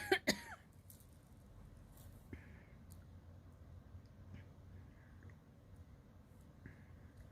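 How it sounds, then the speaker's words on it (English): A woman with COPD coughs hard twice in a row at the very start, close and sharp, then the room settles into a quiet low hum with a few faint small noises. "It hurts to cough, and I have to cough because here it comes."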